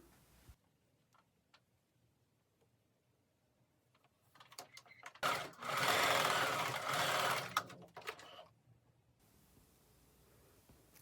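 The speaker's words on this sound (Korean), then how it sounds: "겉과 겉이 마주 보도록 해서 중심선을 1cm 간격으로 박아줍니다" Sewing machine stitching the centre seam of a hooded dress, a few faint clicks and handling taps before a loud close motor whir of about four seconds, then quiet clicks as it stops.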